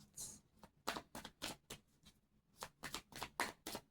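A stack of tarot cards being shuffled by hand, with a string of crisp riffling bursts in quick succession, close and clear with no talk.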